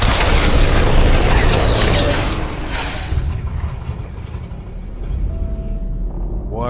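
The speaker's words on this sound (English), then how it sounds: "What an explosion." A huge explosion in The Outer Worlds 2 video game booms loud and close, its roaring blast and rumble slowly fading over several seconds into a lower, lingering rumble.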